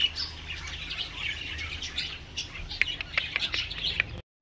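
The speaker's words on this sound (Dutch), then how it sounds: "Vogeltjes zijn er." Birds chirp and tweet outdoors by the water at a fishing spot, scattered short calls over a steady low background of outdoor noise.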